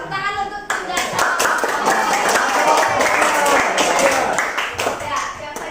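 A classroom of children claps together for a team, a dense burst of hand claps that starts abruptly and continues steadily for several seconds before thinning out, heard close and loud.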